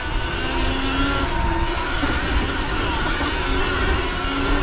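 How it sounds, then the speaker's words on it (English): Cross traffic rushes past a Sur-Ron electric dirt bike heading into a hill climb in Los Angeles, a dense close roar of car engines and road noise. The traffic sound swells as vehicles pass close by. "Watch the cars."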